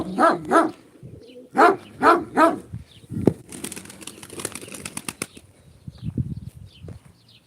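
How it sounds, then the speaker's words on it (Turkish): Several dogs bark in short bursts, fairly close, followed by a rustle of flapping wings and scattered bird sounds. "3-4 tane köpek var."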